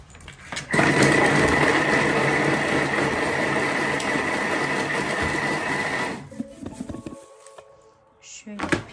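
Kitchen appliance chopping tomatoes, a loud steady motor whir running for several seconds before stopping, followed by a few handling clatters while someone speaks.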